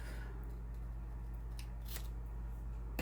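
Scissors trimming paper for a handmade shore-themed journal, with a couple of quiet, crisp snips over a low steady background hum, no talk.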